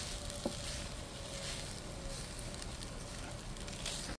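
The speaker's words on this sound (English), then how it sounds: "So now I'm gonna smash the rice so there are no lumps in the fried rice." Fried rice sizzles faintly and steadily in a pan as it is smashed to break up lumps, a soft continuous hiss with no voices.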